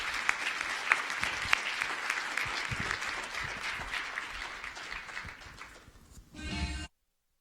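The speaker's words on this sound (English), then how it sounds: "Let's give them a round of applause." A conference audience at a civil and human rights gathering applauds a panel: dense, steady clapping that fills the room for about seven seconds, then cuts off abruptly.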